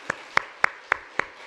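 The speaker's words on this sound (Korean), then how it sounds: "우리 뜨거운 박수 한번 환영합시다" A church congregation claps to welcome a newly registered member at a Sunday worship service: five sharp, evenly spaced handclaps, fairly near and moderately loud, with no voices over them.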